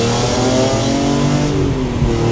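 BMW E46 M3 fitted with CSL headers, its engine droning loud and steady from inside the car while driving, with a smooth, constant tone and no talk over it.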